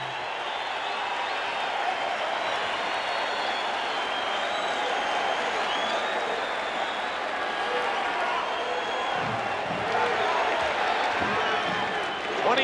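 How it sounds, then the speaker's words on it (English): Basketball arena crowd during the 1988 NBA Finals Game 7 between the Detroit Pistons and Los Angeles Lakers, a steady dense roar of cheering and applause filling the space, with a commentator talking over it. "Crowd begins the celebration now."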